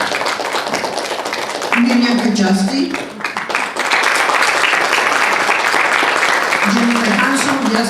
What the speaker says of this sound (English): Please stand up to receive the applause of the audience.